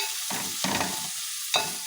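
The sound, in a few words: stirring onions sautéing in coconut oil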